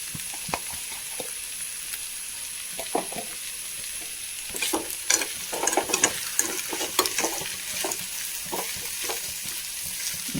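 Dried tapioca upperi with grated coconut is stirred and fried in a pan, giving a soft steady sizzle under repeated scraping and clattering strokes that grow busier partway through, close by and with no talking.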